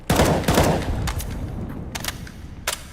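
A thrown grenade in a video game bursts loudly near the start, then a second blast and several sharp, gunfire-like cracks follow over a steady noisy rumble.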